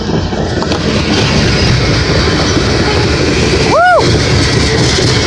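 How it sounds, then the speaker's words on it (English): A CSX coal train rolls past in Springfield, Tennessee, a steady broadband rumble filling the whole clip, with an excited voice shouting and wind buffeting the microphone. "Haven't seen a train up here in a little while"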